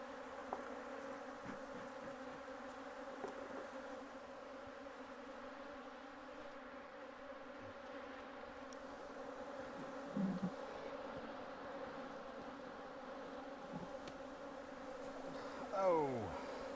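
Bees hum steadily around beehives being moved on a cloudy, drizzly day, a continuous low buzz at moderate distance with a few louder passes near the mic and occasional soft handling bumps.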